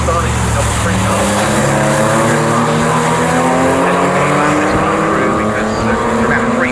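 Porsche Boxster race cars at Snetterton circuit scream past loudly, their engine notes rising and falling as they go by, under a race commentator's voice.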